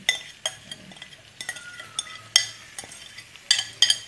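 A utensil stirs spice paste in melted butter in a pan, with a soft sizzle underneath and a string of sharp metallic clinks and scrapes at irregular intervals, close and clear.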